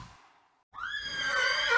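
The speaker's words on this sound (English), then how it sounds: "Horse." A horse neighs loudly and alone: a shrill, wavering whinny that starts abruptly after a brief quiet moment and carries on strongly to the end, following a fainter earlier call.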